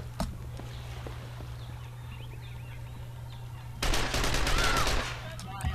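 Rapid machine gun fire bursts out loud in The Ship multiplayer game, a dense rattling volley of about a second amid faint background game ambience and a low steady hum.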